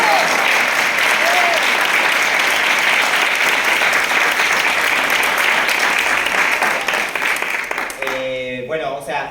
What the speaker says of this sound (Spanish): La aplaudimos a Pau.